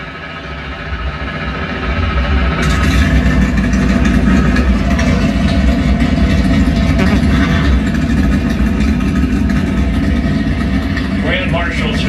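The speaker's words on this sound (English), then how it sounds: "Gentlemen, let's get those engines fired up." NASCAR Cup Series race car engines at Daytona rumble loudly at idle after starting, a dense sustained roar that swells and stays steady, with an announcer's voice over it.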